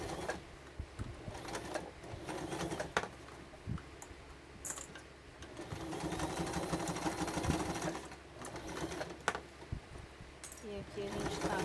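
A home sewing machine stitches a personalized toiletry case along its back side and zipper, running in bursts of steady mechanical whirring with short pauses, close by, under intermittent talk.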